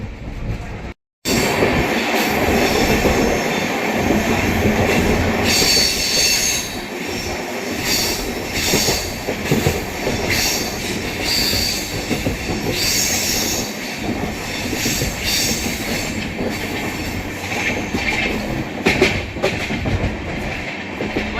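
The Amrit Bharat Express between Howrah and Anand Vihar, Delhi, is heard from on board, with a loud continuous rumble, rhythmic clickety-clack of the wheels and occasional squeals along the rails.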